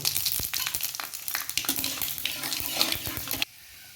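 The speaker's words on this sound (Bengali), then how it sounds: "কড়াইতে তেল গরম বসিয়ে দিয়েছি ফোড়নে পাঁচ ফোড়ন দিয়ে দেব" Panch phoron seeds crackle and sizzle in hot oil in a kadai, a dense, steady frying hiss with irregular pops and stirring scrapes, close and loud, then cut off abruptly near the end.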